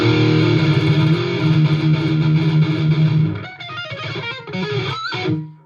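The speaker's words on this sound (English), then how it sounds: "the trick here is I'm using that diesel distortion" An electric guitar strung with slightly heavier gauge strings plays a riff through a diesel distortion effect, loud and thick, first as sustained, ringing chords and then as choppy, chugging notes that fade out.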